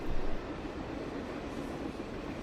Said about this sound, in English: a westbound auto boxcar train with a UP-9 and Conrail Blue-8 wide cab rolled through